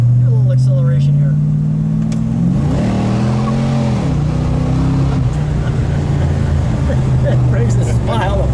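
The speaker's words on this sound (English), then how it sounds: "Do a little acceleration here." A 1971 Plymouth Duster 340 in Curious Yellow accelerating on the road, its V8 engine droning loud and close with a rising rev around the middle before settling into a steady cruise, with faint talk inside the cabin.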